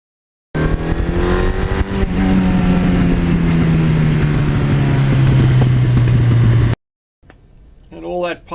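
A 1982 Suzuki GS1100E motorcycle engine with an aftermarket exhaust, running loud and close, its pitch rising and settling through revs for about six seconds before cutting out, followed by a short burst of talk.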